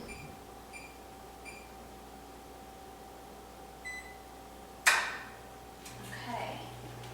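A kitchen oven being set to preheat to 375 degrees Fahrenheit gives several short, faint electronic beeps at spaced intervals, followed by a soft click and a low fan hum starting up.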